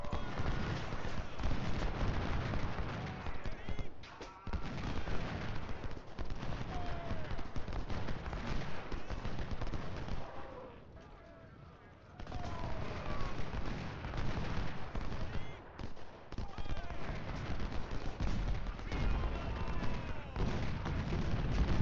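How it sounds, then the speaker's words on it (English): Continuous battlefield gunfire and artillery from an Ultimate General: Civil War battle at Everettsville: dense, overlapping booms and musket crackle that dip briefly to near quiet before resuming at full loudness. "I was waiting for this cannon to fire."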